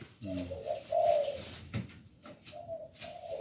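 A dove-like bird at a bird farm gives a run of soft, low, repeated coos, fairly close and clear, with faint background chirps and no speech over it.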